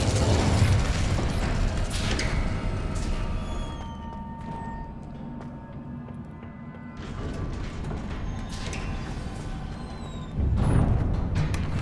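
Incendio fire spell cast in Hogwarts Legacy, a loud whooshing, rumbling burst that dies down to a quieter crackling bed before a second heavy surge swells near the end, with no voices.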